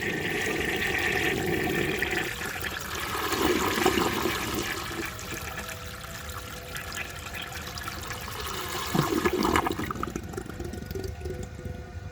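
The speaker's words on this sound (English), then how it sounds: "Let's do one more flush to get the rest of that dirt out." A 1930 Eljer Sanus toilet flushes with a strong, continuous rush of water that swells and surges over several seconds before the tank begins refilling, heard alone up close.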